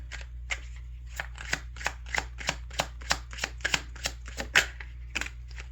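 Oracle cards being shuffled in a quiet room, a run of crisp riffling bursts repeating at a quick, fairly even pace, close up over a low steady hum.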